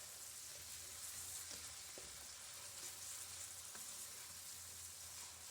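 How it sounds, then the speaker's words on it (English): Prosciutto ham and onions sauté in a pan with a faint, steady sizzle and a few light stirring clicks, quiet and continuous without talk. "I want to saute this until the prosciutto gets some color and the onions are transparent."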